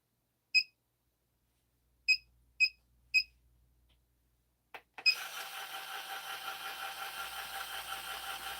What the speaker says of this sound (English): All right, you'll hear some beeping here.